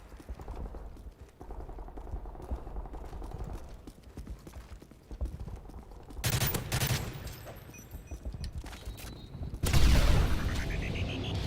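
M16 rifle fire in Modern Warfare 3 comes in sharp bursts of rapid shots over a busy background of game sounds, with a louder burst near the end.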